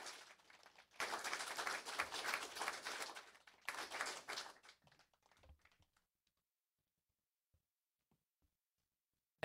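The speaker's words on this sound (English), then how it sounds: "Can we get a round of applause for all the people here that put this on?" Audience applause at a guitar clinic held at Pitbull Audio bursts out after a second, sustains loudly with a brief dip near four seconds, then tapers to scattered claps and near silence.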